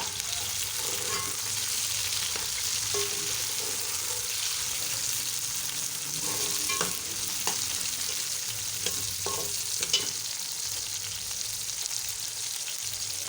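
Tomatoes and green chillies sizzle and fry with onions in a pan for aloo methi, a steady close crackle with occasional stirring scrapes and no talking.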